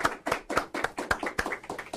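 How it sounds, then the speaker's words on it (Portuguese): A small group claps hands for a guest professor in a studio setting, with a sparse, roughly even rhythm of about eight sharp claps per second that never builds into a crowd roar. "palmas para a professora Maria Carra, por favor."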